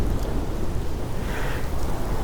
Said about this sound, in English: a very violent storm is approaching with lightning and clouds threatening hail.